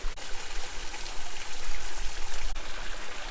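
A small waterfall with little water trickles and splashes steadily nearby on a Southern California hiking trail, a continuous watery rush with slight swells in loudness and no voices.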